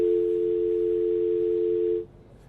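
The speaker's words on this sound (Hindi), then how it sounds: "फोन लग रहा है कट गया है" A steady, loud telephone tone drones on as a phone call gets cut off, then stops abruptly, leaving only faint low background noise.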